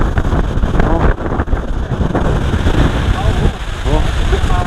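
Strong wind gusts buffet the microphone continuously on a hilltop overlooking the sea, a loud roaring rush that swells and dips, with a voice speaking briefly under it.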